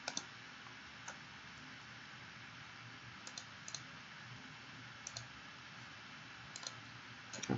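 Computer mouse clicks, scattered single and double taps spread irregularly over several seconds, quiet and close against a faint steady background hiss.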